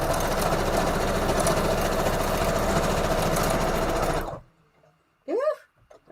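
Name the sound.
sewing machine sewing a straight stitch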